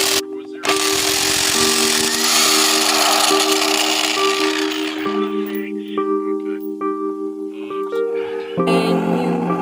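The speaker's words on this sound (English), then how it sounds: "Then you can use the impact wrench right here to take it off." An impact wrench working loose the front wheel of a John Deere 710B backhoe, a loud, continuous rattling drive with strong mechanical whine heard close up for several seconds before cutting off and restarting.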